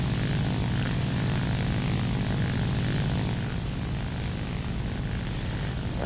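A La-5 fighter's propeller engine in the War Thunder flight game drones steadily and loudly throughout, with slight throttle changes shifting its tone and a small swell at the very end.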